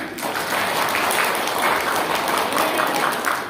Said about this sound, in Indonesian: Tepuk tangan untuk Pak Darno.